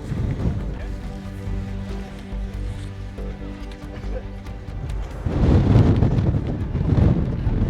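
Gusty wind buffets the microphone on the Great Ridge in the Peak District, low roaring rushes that surge stronger toward the end, with faint voices of passing walkers underneath.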